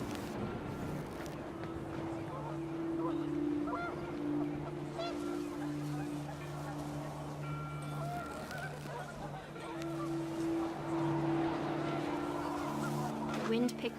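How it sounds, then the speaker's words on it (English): Panicked geese from the video game What Remains of Edith Finch honk over windy outdoor noise. Steady low tones run beneath the honking, which carries on for the whole stretch, loud one moment and fading the next. "The wind picked up and panicked geese appeared and quickly went."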